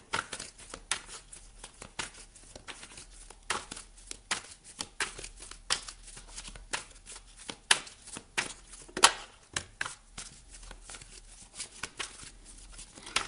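Tarot cards are handled and laid out on a table, with a steady run of soft crinkling, sliding and tapping noises. A few sharper card snaps stand out among the close, quiet handling, and there is no talking.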